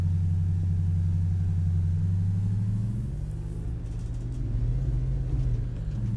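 Ford F150 SVT Raptor engine idling and running in American Truck Simulator, a steady low rumble with a slight pitch rise and rev shift partway through, loud and continuous with no talking.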